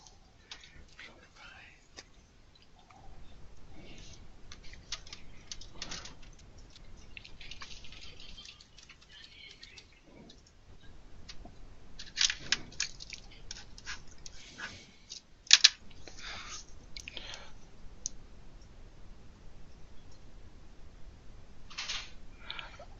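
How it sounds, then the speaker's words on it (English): Two people typing on computer keyboards during a conference call produce faint, irregular clusters of clicks and taps over a quiet, muffled line, with an occasional sharper knock. "Looks as though two people are typing."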